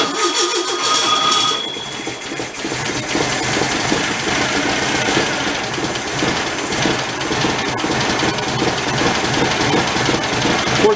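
Broken Volkswagen tractor engine running as throttle is added, a loud continuous mechanical rumble with dense rattling and clatter that holds steady throughout, close to the machine.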